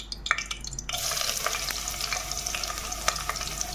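Chopped onion and curry leaves hit hot homemade ghee and sizzle loudly, followed by a steady close fry with stirring scrapes for restaurant-style dal khichda.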